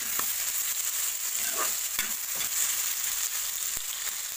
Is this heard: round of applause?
no